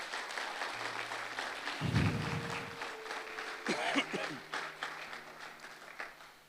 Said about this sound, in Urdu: زوردار تالیاں خداوند کے لیے